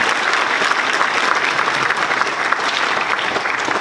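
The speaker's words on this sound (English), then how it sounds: "So can we give them a round of applause, please?" Sustained audience applause at a school spring concert, dense steady clapping from a large crowd filling the hall for the whole stretch without a break.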